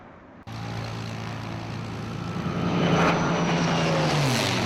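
Steady propeller drone from a stunt airplane in flight, heard close as if from inside the cockpit, rising in loudness with a pitch shift partway through as it maneuvers.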